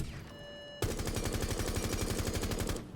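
Rapid automatic gunfire from a video game gun, a steady burst of closely spaced shots lasting a couple of seconds after a brief mechanical lead-in, loud and up close with no talking.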